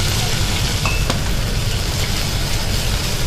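Potatoes frying in a pan, a loud, steady sizzle with a crackling hiss close up, with a voice talking in the background.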